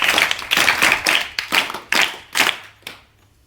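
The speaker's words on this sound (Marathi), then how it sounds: "त्यांच्या या कार्यासाठी आपण सर्वांनी थोड्याशा टाळ्या वाजवाव्या" Audience clapping for an organisation caring for orphaned children, coming in about seven distinct bursts of hand claps that fade to quiet at the end.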